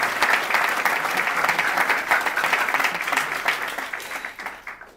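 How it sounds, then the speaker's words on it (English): A crowd applauds at a boys' high school commencement ceremony, with steady, dense clapping that holds strong before fading out toward the end. "I want to give a round of applause to Coach Lechter and Coach Avner"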